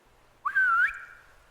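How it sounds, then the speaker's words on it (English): A single clear whistle, heard as a sound effect during a tabletop game, rises into a sustained sliding tone lasting about half a second, then fades, alone against a quiet background. "this, now, Dr. Grall, is when you hear the whistle from downstairs"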